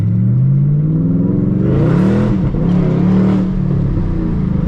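A Shelby GT500 V8 pulls hard from inside the car while driving, its loud engine note rising and dipping through a gear change, then climbing again in a sustained accelerating roar.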